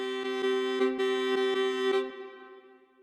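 Dark Era orchestral sample library patch moving from a rhythmic pattern into staccato articulation: a steady sustained tone with repeated short accents for about two seconds, then a fading tail.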